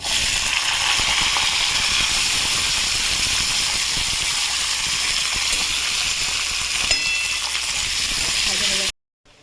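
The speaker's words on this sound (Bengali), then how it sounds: "তেলটা দিয়ে দেখুন, আদা রসুন আর শুকনো লঙ্কা এই তেলটার মধ্যে দিয়ে বেশ ভেজে নেব" Ginger, garlic and dried chilli fry in hot oil, giving a steady, loud, dense sizzle that holds evenly for about nine seconds before cutting off abruptly.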